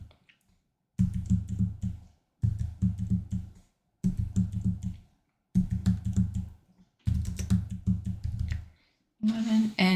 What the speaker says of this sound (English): So I'm now going to type in 2026